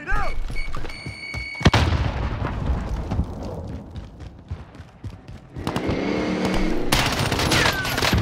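Heavy explosion and rapid gunfire in the shooter Warzone, a dense continuous barrage with a sharp blast near the start and another loud burst toward the end, filling the whole stretch with booming, crackling noise.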